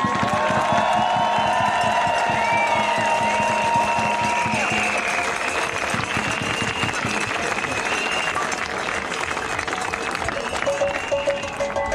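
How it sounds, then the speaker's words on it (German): Large crowd at an anti-Corona-measures demonstration in Neuchâtel bursts into sustained applause and cheering, a dense continuous roar of clapping with whistles and shouts running loud and steady throughout. "Großer Applaus, bitteschön!"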